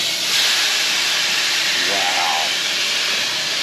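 Boudin sausages laid fat side down in a hot pan give off a steady, loud sizzle like a continuous hiss that holds even throughout.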